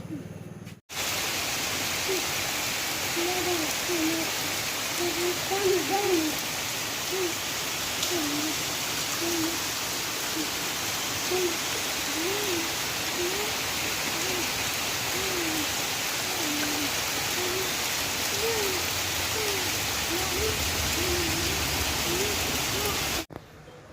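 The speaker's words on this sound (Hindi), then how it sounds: "देख सकते हैं वो छत से कितना पानी आ रहा है" Heavy rain pours steadily off a house roof, a dense, continuous wash of falling water running nearly unbroken and fairly loud for the whole stretch, with no speech over it.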